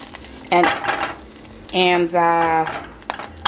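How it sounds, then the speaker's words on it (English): A piece of steak is lifted out of a frying pan with metal utensils clinking and scraping against the pan over a low sizzle, with a brief tonal squeal in the middle. "it's time to take the first piece out of the pan"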